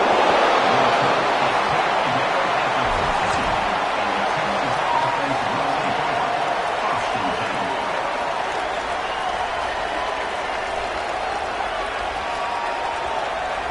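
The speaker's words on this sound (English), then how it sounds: "This crowd bringing the energy and noise early." A stadium crowd roars at a Texas vs LSU college football game, a constant loud wash of cheering and noise that never lets up, with a commentator's voice heard over it.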